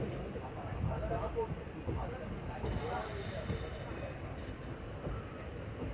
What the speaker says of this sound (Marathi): आणि ही आमच्या इकडून एक ट्रेन निघाली